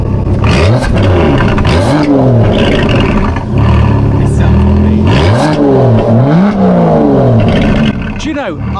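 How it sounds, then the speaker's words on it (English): An Aston Martin DB11 V12 engine revs repeatedly, pitch sweeping up and down in loud surges, with a voice talking underneath throughout. "It's absolutely incredible noise that the car makes, and it's astonishingly good."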